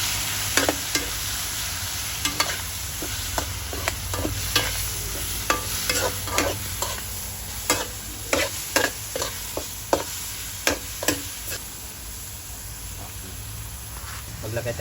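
Ground pork frying and being stirred in a pan for spaghetti sauce, a steady sizzle broken by repeated scraping and clacking stirs, with a voice speaking at times.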